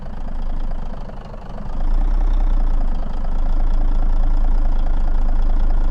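A heavy truck engine in American Truck Simulator rumbles low and steady at idle, then swells slightly louder and holds as throttle is added, with no voices.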